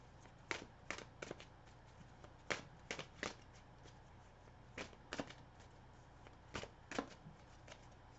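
Tarot cards shuffle close by in a quiet room, soft repeated riffling bursts in small uneven clusters with brief pauses between them.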